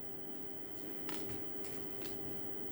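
Tarot cards being shuffled by hand, a few soft riffling bursts over a steady background hiss, close and fairly quiet, with no talking.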